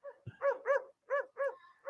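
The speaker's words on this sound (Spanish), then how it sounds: "ese es el perro del círculo." A dog barks several times in short bursts, fairly close, with brief pauses between the barks and no talk over them.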